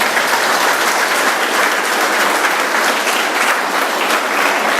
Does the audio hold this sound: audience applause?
yes